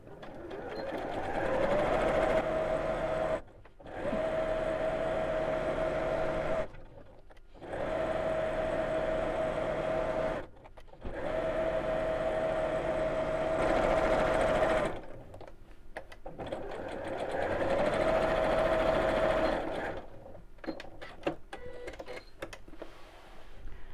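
Domestic sewing machine stitching a quarter-inch seam on a fabric storage box, running in several steady motorized bursts separated by short pauses, close and fairly loud, with no talking.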